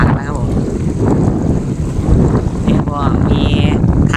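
Strong wind at a reservoir buffets the microphone with a constant loud rumble and gusty roar, while someone talks over it and faint water sounds lie beneath.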